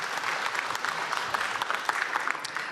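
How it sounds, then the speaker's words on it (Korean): People at a Gwangju and South Jeolla town hall meeting on an airport dispute, attended by President Lee Jae-myung, clap together in a brief, even burst of applause that fills the room throughout. "박수 다시 쳐주세요."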